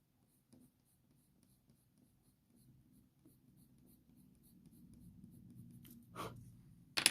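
Colour pencil, a cold grey 2, shading and darkening kitten fur on paper: soft, faint scratchy strokes building gradually, growing a little louder toward the end, with no talking.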